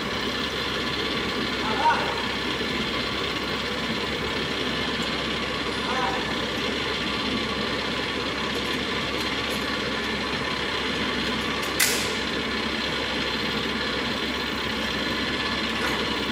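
A forklift engine runs steadily throughout a student's operating practice during a hoisting exercise, a continuous low mechanical drone with a few brief higher clanks, while voices talk nearby.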